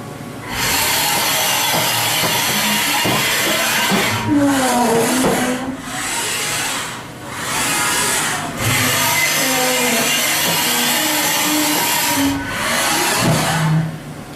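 The axes of a 2007 Haas VF-5XT CNC machine traverse at 100% rapid, producing loud, repeated servo whirs that rise and fall in pitch, with brief pauses between moves, heard close up inside the machine shop.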